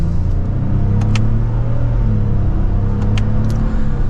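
A 2024 Lexus GX550 Premium Plus pulls away in sport mode in second gear, a steady deep engine rumble heard from inside the cabin with faint clicks over it.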